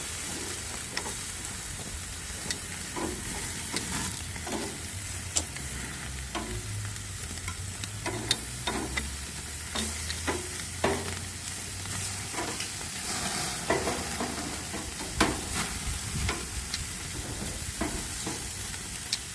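Thin, fatty meat sizzles steadily on a grill, making a dense, continuous crackle and hiss broken by sharp pops and the scrape of a utensil as the pieces are moved.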